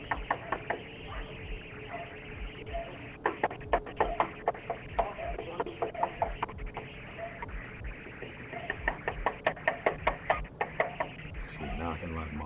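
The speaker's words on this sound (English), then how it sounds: "She's knocking like a motherfucker." Hard, rapid knocking on a house door, loud and insistent bursts of knocks repeating in clusters, with people talking over it throughout.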